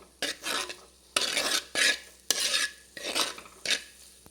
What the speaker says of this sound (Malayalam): മസാലകളെല്ലാം കൂടെ നന്നായിട്ട് എണ്ണ തെളിഞ്ഞ് വരുന്നിടം വരെ ഇളക്കി കൊടുക്കാം